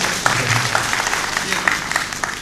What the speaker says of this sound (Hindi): इनका एक बार जोरदार तालियों का